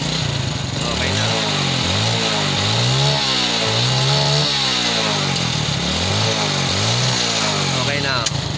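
A Yamaha Vega Force 115 motorcycle engine that had a fuel regulator and air suction valve fault runs steadily nearby, revved up and down several times in rhythmic swells under a continuous idle, with people talking over it.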